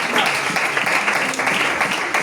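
A church congregation at a youth service applauds, giving dense, steady clapping from many hands that fills the room for the whole stretch with no pause.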